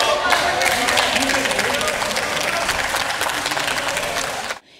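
Lawmakers in a parliamentary chamber applaud after a speech, loud, dense clapping from many hands that carries steadily for several seconds before cutting off abruptly near the end.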